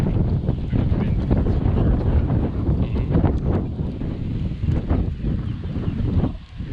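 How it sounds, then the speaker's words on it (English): Gusts of wind buffet the microphone of a rider on a Ninebot Z10 electric unicycle outdoors, producing a loud, continuous rumbling roar that surges and eases unevenly throughout. "Here's the wind."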